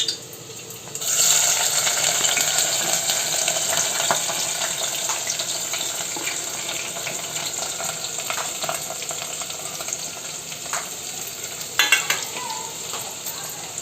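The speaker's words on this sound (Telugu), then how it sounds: "ఉల్లిపాయ, కరివేపాకు, పచ్చిమిర్చి, ములక్కాయలు వీటిని వేసుకుని కూడా బాగా వేయించుకోవాలి" Onion, curry leaves, green chillies and drumsticks frying in a pan for a taro root tamarind stew, with a loud steady sizzle after a short quiet start and occasional scraping stirs, close and alone.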